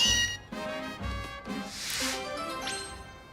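Meowth, the cat Pokémon, meows in a Pokémon video game, several short game-voice cries followed by a longer drawn-out meow and a rising squeal, moderately loud over a soft background.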